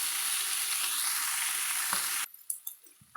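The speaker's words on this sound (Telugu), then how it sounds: "ఇప్పుడు ఇంకా ఫ్రై చేసుకోవాలండి. కానీ ఫ్రై చేస్తూ వేయించాలి" Nalleru (Cissus quadrangularis) stems frying in a pan for an old-style chutney, a loud steady sizzle that cuts off abruptly, followed by a few faint clinks and stirring taps.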